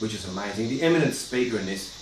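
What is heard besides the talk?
No distinct noise like a dog, phone or traffic.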